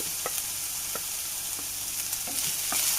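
Finely cut green chilies and curry leaves fry in a hot pan, a constant close sizzle punctuated by regular scraping taps as a spatula stirs them.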